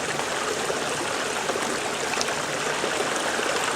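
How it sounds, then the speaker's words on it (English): A woodland stream swollen by rain and snowmelt rushes steadily along on a mid-January hike, a close, dense and continuous watery hiss with no voices. "So we'll have to see where that stream goes."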